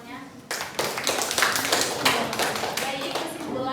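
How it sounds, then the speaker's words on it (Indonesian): A classroom of students bursts into applause, a brisk, lively clatter of many hands clapping close by, with some voices mixed in. "Beri tepuk tangan semuanya."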